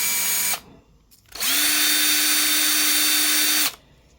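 Power drill spinning a CIVIVI Cogent knife button wrapped in fine 1500-grit sandpaper, a steady loud whine in two runs, a short half-second burst then a longer two-second spin, with quiet between.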